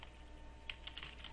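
An email subject being typed on a computer keyboard in Gmail, heard as a handful of faint, separate key clicks over a quiet background hiss.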